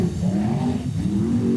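A sprint car engine roars through a speedway time-trial lap, its loud, steady note climbing and dipping in pitch as the driver works the throttle, with no voices over it.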